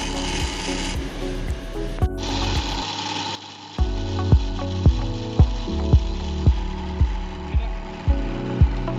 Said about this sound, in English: performed in a vertical direction to create a guide hole, followed by angle drilling to prevent the drill bit from slipping